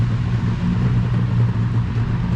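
A small plane's engine powers up for its takeoff roll, giving a steady, droning mid-pitched hum that stays even and fairly close with no voices over it.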